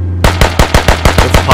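A rapid burst of close, loud automatic gunfire in the video game Squad, about eight evenly spaced shots in quick rhythm.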